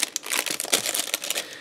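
Cellophane bag wrapped around a hot chocolate stick crackles and crinkles sharply as it is twisted closed, a dense close-up rustle lasting a moment with no voices.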